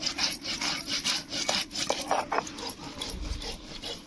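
Coriander and spices are ground on a traditional grinding stone in a village kitchen, heard as rhythmic rubbing and scraping strokes repeating at a steady pace, fairly quiet and close.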